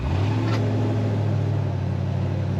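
A 1949 Chevrolet 3100 pickup's engine idles steadily with a deep, even rumble, continuous and close, with no voices.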